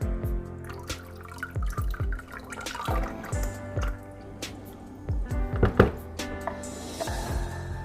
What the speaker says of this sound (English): So I'll start by adding in the lye water or the lye solution.